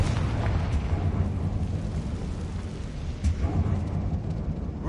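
Confringo explosive spell cast in Hogwarts Legacy inside a dark abandoned mine: a sustained rumbling, booming blast with a couple of sharper bursts, loud and continuous with no voice over it.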